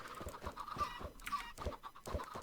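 Chickens cluck in Minecraft Sky Factory 3, a busy overlapping flock of short clucks and squawks that repeat irregularly at close range, with no talk over them.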